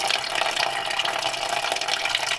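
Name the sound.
water draining out of old flathead engine block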